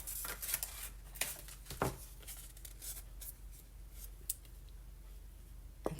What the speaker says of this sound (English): I just cut right around.